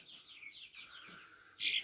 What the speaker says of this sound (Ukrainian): Такий інтересний курчатка.